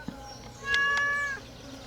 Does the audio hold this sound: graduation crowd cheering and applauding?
no